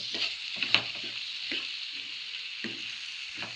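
Ridge gourd and chana dal curry stirred in a pan, with soft frying sizzle and several scraping, clinking strokes of a spoon spaced irregularly over a low background hiss.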